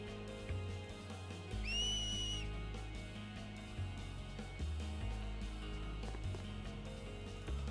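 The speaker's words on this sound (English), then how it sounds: "You whistling at her?" A single short two-tone whistle rises and holds over the ongoing music of the game Final Fantasy X, bright and clear above a steady low musical backing, with no talking.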